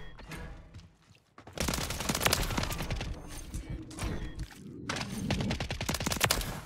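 Bursts of WSP 9 submachine gun fire in Call of Duty: Modern Warfare III, dense rapid automatic rattles loud and close, broken by a short lull near the start and a brief pause midway.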